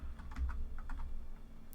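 Quick irregular clicks of keys pressed on a cheap computer keyboard during DOS-era gaming on an HP Vectra VL, close and fairly soft over a low background hum, with no voices.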